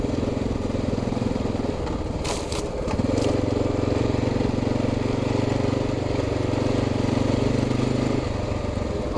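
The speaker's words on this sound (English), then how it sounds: "Just my exhaust keeps popping, especially when it's cold." An XR650L motorcycle engine runs steadily at close range while its exhaust pops, with a brief burst of sharp cracks partway through over the continuous rumbling drone.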